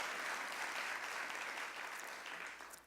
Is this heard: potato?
no